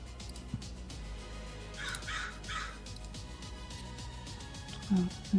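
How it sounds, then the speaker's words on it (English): Crows caw several times from a distance over a low steady background, the calls rising and falling in a loose series, with talk partly mixed in. "There's like crows cawing."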